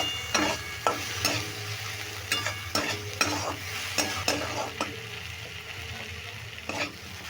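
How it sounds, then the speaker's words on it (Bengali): Lentils and tomato fry in a pan with turmeric and salt, a steady soft sizzle broken by repeated sharp scraping strokes of a spoon stirring, with no talk. "এবার নুন আর হলুদ দিয়ে ডাল আর টমেটোটাকেও আবারও ভেজে নিচ্ছি"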